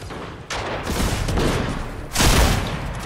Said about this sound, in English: They're shooting at you right now,